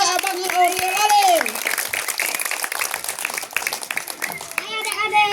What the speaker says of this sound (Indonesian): Beri tepuk tangan untuk Abang Oriel Lali